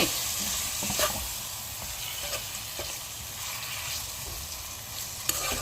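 Small fish in masala stirred in a hot pan, with a steady sizzle and scraping stir strokes running throughout, close and continuous with no talk.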